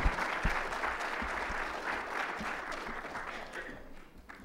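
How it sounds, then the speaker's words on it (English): A conference audience at a security talk applauds a speaker, a dense, moderately loud wash of clapping that holds steady for several seconds before gradually fading. "So warm round of applause"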